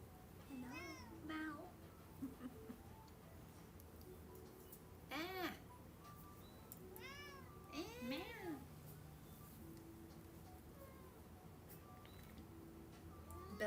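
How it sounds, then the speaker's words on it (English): Small kitten meowing several times in short high mews spread across a quiet room, with a soft voice talking gently between the calls. "Tiny, tiny kitten."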